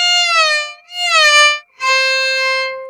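Carnatic violin bowing the note sa and then da in raga Mohanam, three long sustained bowed tones with slight pitch glides, close and clear with no talking.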